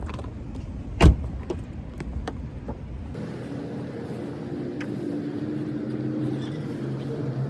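Interior of a parked car just before pulling away: a sharp thump near the start, light mechanical clicks, then a low steady hum of the running engine settling in with no talking.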